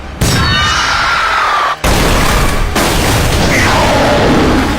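Regular bullets fire at a Gastrea in the anime Black Bullet: loud, sustained bursts of blasting gunfire fill the scene, with one brief gap before the barrage resumes.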